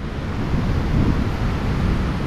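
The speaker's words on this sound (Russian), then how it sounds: "Ниагарский водопад." Niagara Falls thunders in a steady, dense roar of falling water, loud and unbroken throughout with no voices.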